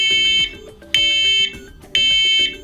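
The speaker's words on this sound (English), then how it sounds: "When an alarm is triggered, you'll hear a loud 85 decibel T3 pattern chirp to alert you." First Alert wireless battery-operated smoke alarm, model SA501CN-3ST, sounding its loud 85 decibel T3 pattern: three piercing, shrill beeps in a steady rhythm, close and alone.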